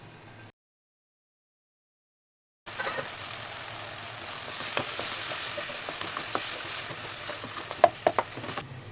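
Tomatoes for a chana gravy fry in a pan after a short silent gap, giving a steady close sizzle with occasional crackles and sharper pops toward the end, no voices.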